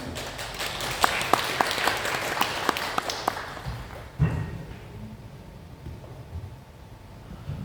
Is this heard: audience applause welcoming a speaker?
yes